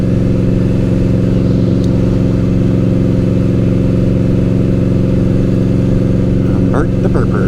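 Steady, loud engine drone from an Indian Scout Bobber motorcycle cruising on a Florida ride, a constant low rumble holding throughout with no clear shifts or revs.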